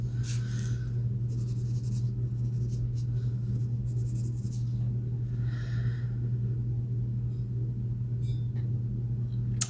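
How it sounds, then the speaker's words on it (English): A white colored pencil burnishes over colored pencil on paper, giving soft, steady scratchy strokes in short repeated bursts, close and quiet above a constant low hum, with no talking. "We're gonna be burnishing it with the white to just soften it up a little bit"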